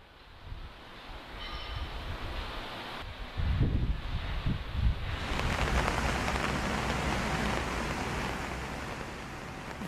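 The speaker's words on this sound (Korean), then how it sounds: "시원한 비가 대지를 적신다. 옥상에서 맨몸으로 더위와 힘겹게 싸우던 쓰레기들도 온몸으로 비를 맞고 있다." Rain falls on a rooftop as a steady, dense hiss of drops that thickens after a few seconds and holds nearby and fairly loud, with some low thuds early on; no voices.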